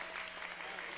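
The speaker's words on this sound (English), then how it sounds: "Give them a warm round of applause as they come to the stage." Warm audience applause as people come up to a stage at an IT summit, dense and continuous clapping from a crowd filling the whole moment.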